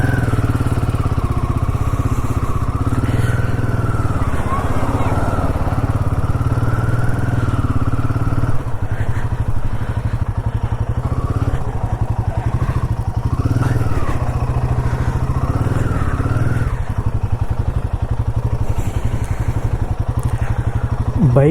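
A motorcycle engine runs steadily throughout a solo border ride from India toward Bangladesh, a loud, continuous low rumble with small surges, close and unbroken for the whole stretch.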